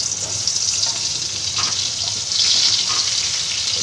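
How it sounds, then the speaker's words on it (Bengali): Potato and pointed gourd frying in hot oil, a steady broadband sizzle with faint crackles running unbroken throughout, fairly close, no voices. "এবার ওই তেলে আমি আলু আর পটলটা ভেজে নেব।"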